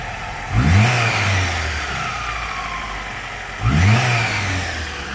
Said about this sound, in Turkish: Şöyle bir de verelim mi gaz? Gaz verelim hadi.